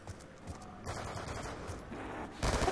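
Rapid bursts of gunfire in Black Ops 2 Zombies, with dense, crackling shots that build louder toward the end, heard alone without voices.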